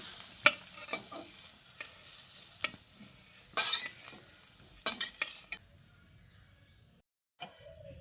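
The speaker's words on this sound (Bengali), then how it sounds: "এবার এই বেগুনগুলোকেও তুলে নিচ্ছি।" Fried eggplant pieces stirred and lifted out of a kadai, with several spaced scrapes and clinks of a utensil against the pan over a faint sizzle, then a brief silence.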